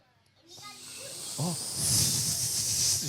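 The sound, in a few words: children imitating a snake hiss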